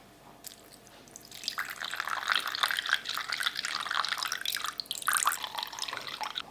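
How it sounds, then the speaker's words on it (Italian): Water pours into a container of sourdough starter, a steady splashing trickle that starts softly and builds to a continuous close pour, with no talking. "Aggiungo 100 g di acqua"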